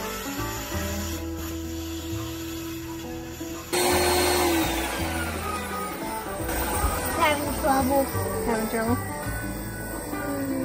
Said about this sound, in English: Now I get to do the vacuum sucking.